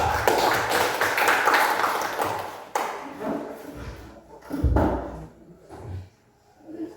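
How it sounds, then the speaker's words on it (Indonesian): An audience in a classroom applauds a student group after its presentation: dense clapping for about three seconds, then thinning into scattered claps and taps that fade out. "Baik, kita beri aplaus kepada kelompok 3."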